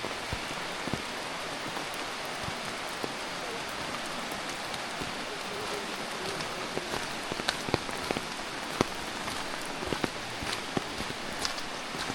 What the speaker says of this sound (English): I love this weather. The rainier the better.